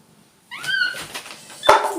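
A kitten meows twice up close, first with a rising, wavering cry and then with a sharper, louder one, after a short stretch of near silence.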